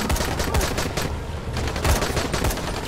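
Rapid bursts of automatic gunfire come from a 24-bullet gun in the co-op video game Dying Light, loud and close, with dense shots continuing under a steady wash of game noise.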